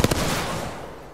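In Apex Legends, two sharp gunshots at a cargo bot crack in quick succession, close and loud, then fade into a lingering rumbling tail.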